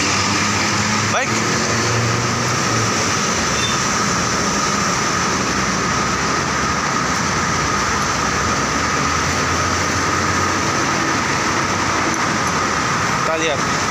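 Jabodebek LRT light rail train in Jakarta, a steady loud rumble and hum of rolling rail cars filling the whole stretch, with a few faint clicks and scattered talk underneath.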